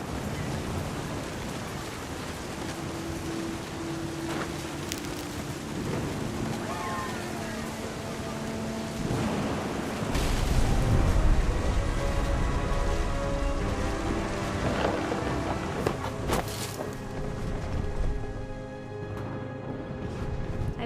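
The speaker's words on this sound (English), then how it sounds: "The thunder sounded much too close and full of angry power." Stormy rain in the video game What Remains of Edith Finch, a steady wash of falling rain with a deeper rumble swelling near the middle, set under background music and other game sounds.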